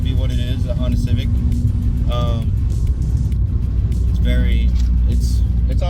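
A 9th-generation Honda Civic Si is driving, a steady, loud engine and road rumble that fills the whole stretch, with a voice-like sound breaking in now and then over the drone.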